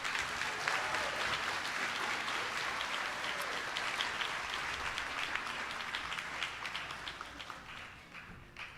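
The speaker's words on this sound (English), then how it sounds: "Let's give a round of applause for Ms." Steady applause from an audience for a class at a middle school eighth grade farewell ceremony, a continuous rattle of clapping from a moderately sized crowd that gradually softens toward the end.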